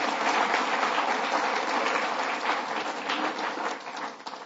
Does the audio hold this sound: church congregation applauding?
yes